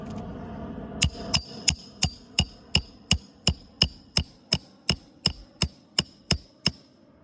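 Hammer blows driving nails into roof shingles during a repair, about fifteen sharp, evenly spaced strikes ringing out close and loud, with no talking.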